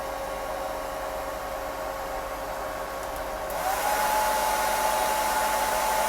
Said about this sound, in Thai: ผมจะเปิด ไดร์เป่าผม